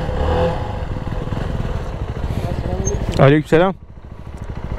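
A Yamaha MT-07 motorcycle engine runs steadily close by throughout, a continuous mid-pitched drone, while people talk over it in Turkish on a street ride.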